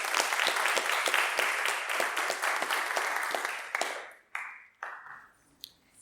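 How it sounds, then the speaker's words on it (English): Applause after a lecture on the American Transcendentalists comes from a modest audience as steady, fairly quiet clapping, thinning out after about four seconds into a few last scattered claps. "And another round of applause for Frank as well."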